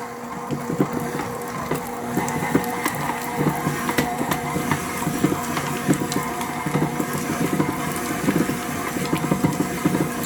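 An electric mixer beats cheesecake batter for a mango burnt Basque cheesecake at low speed, a steady near whirring and sloshing that continues evenly throughout.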